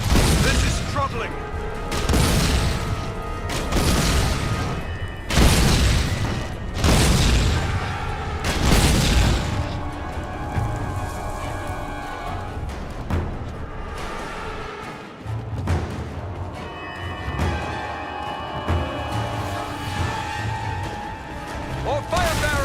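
Repeated explosions from self-destructing fire bearers in The Lord of the Rings: War in the North, loud heavy booms and crashes rolling one after another amid dense battle noise and game music.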